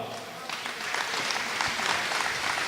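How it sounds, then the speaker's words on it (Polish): A crowd applauding steadily at a boxing event trophy presentation, dense clapping that swells slightly, with a voice faintly audible underneath. "Wielkie brawa!"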